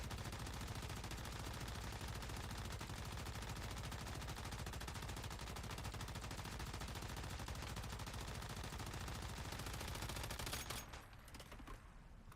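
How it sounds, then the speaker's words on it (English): Sustained automatic gunfire fills the air as a whole magazine is emptied into a target in the video game Once Human, a dense, rapid, unbroken burst running about ten seconds before cutting off abruptly. "let's just empty a whole mag into this dude"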